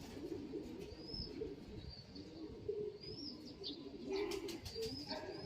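Pigeons coo in a loft of young birds being raised for late breeding, soft repeated low coos running steadily through the clip with a few brief chirps and some rustling, fairly close.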